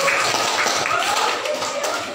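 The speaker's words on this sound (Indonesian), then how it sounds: "Tepuk tangan buat ya" A room full of people applauds at a mock courtroom trial session, with dense clapping that holds steady throughout and eases off a little near the end.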